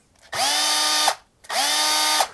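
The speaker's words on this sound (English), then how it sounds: "Very smooth drill." A smooth drill spins to wrap coil wire, making two loud, sustained whirring bursts of about three quarters of a second each, and each one starts and winds down cleanly with a short pause in between.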